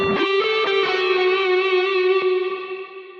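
Free Stardust reverb plugin preset processing a sustained tonal sound, a bright harmonic tone with shimmering overtones and a few sharp attacks, washing into a long smooth tail that slowly fades, no delay present.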